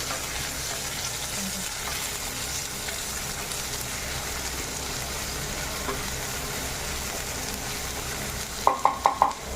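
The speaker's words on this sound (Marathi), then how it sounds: "आता मस्त हलवून घ्यायचं." Mutton chilli with green chillies and curry leaves sizzling steadily in a pan, a constant close frying hiss under light stirring, ending with a few quick metallic clinks.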